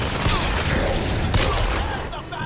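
Rapid gunfire bursts in Bioshock Infinite, loud and dense, with sharp cracks and a heavy report near the middle over a busy combat din.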